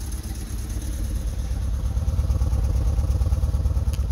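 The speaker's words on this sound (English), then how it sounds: "Running on a couple cylinders, huh?" A damaged car engine, driven three days with the oil light on, idles roughly as if firing on only a couple of cylinders, a loud uneven low rumble with clattering pulses that swells slightly partway through, no talk.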